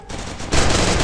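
AK rifle fire in a shooter video game, a loud close burst of rapid automatic shots that intensifies halfway through, with no voices.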